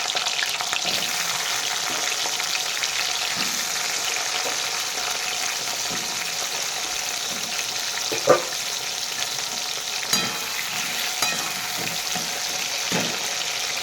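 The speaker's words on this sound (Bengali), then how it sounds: "আমি আলুগুলো দিয়ে দেবো আলুগুলো লাল লাল করে কড়া করে ভেজে নেব" Potatoes crackle in hot oil as they fry until red and crisp, a constant bright sizzle with a few sharp clicks and pops scattered through.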